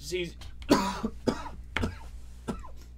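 A person coughs repeatedly in short, harsh bursts spaced about half a second apart, with a brief throaty voiced sound at the start and some rough, raspy clearing between the coughs.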